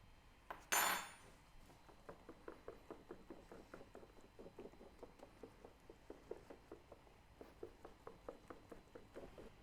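Pumpkin pie filling with cinnamon is stirred in a bowl with a soft, rhythmic run of faint scraping clinks, after one sharp loud knock at the start.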